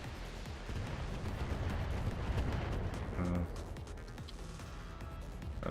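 Weapon fire in the BattleTech tabletop-style mech video game: a dense, continuous barrage of booming shots and thuds rumbling for several seconds, with a brief burst of sharper impacts midway, fairly loud throughout.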